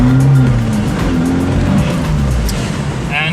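A car drives along the Monaco streets of the Grand Prix circuit, giving a steady, close engine drone and road roar throughout with a slight tyre hiss, and no voices.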